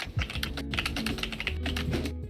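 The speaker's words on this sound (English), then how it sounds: "I hope you can't hear my keyboard." Quick continuous typing on a computer keyboard, a dense patter of close, crisp key clicks with no pause, under a low background hum.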